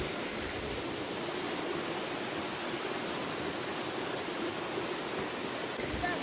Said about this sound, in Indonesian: sekarang kita sudah di air terjun yang utama ya